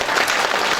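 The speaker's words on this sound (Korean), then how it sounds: "서로를 격려하는 감사의 박수 한번 치시고" An audience at a Yangpyeong County residents' town-hall forum in Yangdong-myeon gives a brief, steady burst of dense applause at the close of a debate, close and fairly loud.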